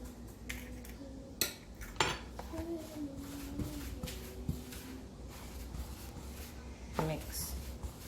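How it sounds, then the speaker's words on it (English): Two eggs being beaten in a bowl, with repeated clinks and scrapes of a utensil against the bowl, a few sharper knocks standing out among softer continuous stirring close by. "Just have to mix properly to be sure"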